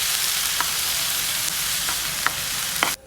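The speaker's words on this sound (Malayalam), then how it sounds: "ആദ്യം ഇതാ ഒരു പാത്രത്തിലേക്ക് എണ്ണ വെച്ചിട്ട് ഉള്ളിയും പച്ചമുളകും നല്ലോണം വാട്ടിയെടുക്കാം" Onions and green chillies fry in oil in a pan, a steady close sizzle that continues evenly with faint occasional stirring clicks before cutting off abruptly.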